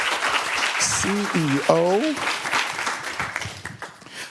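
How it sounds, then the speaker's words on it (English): Audience applause at an Atlanta business forum panel swells as a panel speaker is welcomed, a broad wash of clapping running underneath a presenter's amplified voice, fading somewhat toward the end. "So please put your hands together"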